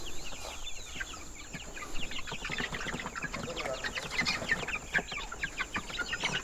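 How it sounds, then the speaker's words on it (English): Several local-breed chickens on a farm cluck and chatter close by in a busy, overlapping flurry, with no pauses between calls. "These are what we call local birds."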